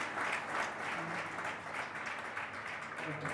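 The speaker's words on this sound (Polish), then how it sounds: "duże brawa" Crowd applause fills a badminton hall after a mixed doubles final rally at the 2013 Yonex Polish tournament, a steady, fairly faint wash of clapping that runs throughout without a break.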